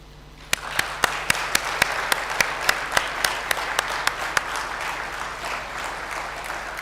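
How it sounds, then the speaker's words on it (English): Conference audience clapping together in support of a declaration, a slow, steady rhythm of unified claps over a soft wash of room applause, dying away toward the end. "if you can join me in clapping to show your support for the declaration"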